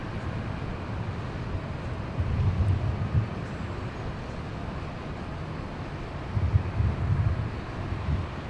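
A WestJet airliner takes off from runway 24 left at LAX, its jet roar a steady, wind-buffeted rumble heard from a distance, swelling in two low surges.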